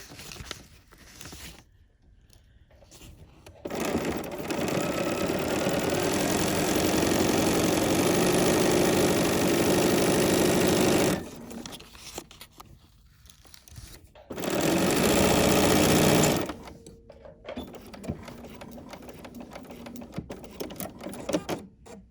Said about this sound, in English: I'm going to lower my presser foot, drop my needle down, and stitch right along this line right here.